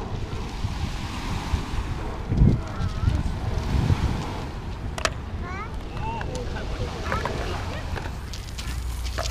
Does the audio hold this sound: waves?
yes